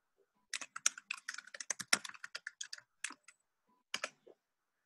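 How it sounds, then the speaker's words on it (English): Brisk typing on a computer keyboard, a quick run of sharp key clicks with uneven rhythm, a short pause, then a few more taps, close and clear in a quiet room. "I just typed in the chat"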